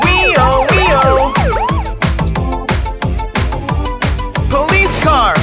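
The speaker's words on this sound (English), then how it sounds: "Police car! Wee-oh, wee-oh! Wee-oh, wee-oh!" A police car siren in an animated children's nursery rhyme wails in a fast, repeating up-and-down pattern, loud and close, layered over a bouncy musical backing.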